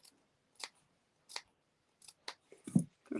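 Scissors snip into the curved fabric seam of an embroidered face mask, about six short, crisp cuts spaced irregularly, close and quiet with silence between.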